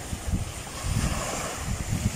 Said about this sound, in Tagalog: Maalon pala ho.